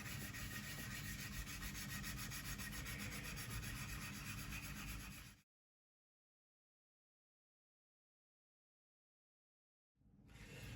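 Steady, broadband scraping of sandpaper on a plastic part of a Tamiya 1/32 P-51D model aircraft, close and continuous for about five seconds, then silence before the rubbing starts again.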